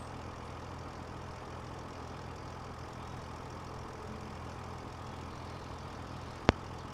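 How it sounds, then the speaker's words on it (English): Tractor engine in Farm Sim 25 running steadily, a low droning hum that stays even throughout, with one sharp click near the end. "drive the tractor with the trailer to his unloading station"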